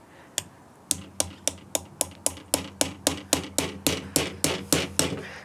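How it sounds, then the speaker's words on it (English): Gin pliers tap a grafting knife to split the trunk of a cotoneaster bonsai, giving about sixteen sharp, close clicks in a steady rhythm that comes slightly faster and firmer as it goes on. "I'm just going to take my grafting knife, place it on top like this, and take the gin pliers and just tap gently."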